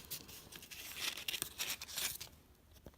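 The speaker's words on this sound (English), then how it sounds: "same thing with these flaps. You wanna" Paper flaps of an origami transforming ninja star being folded and pressed in, making soft close crinkling and rustling, quiet and with no talk.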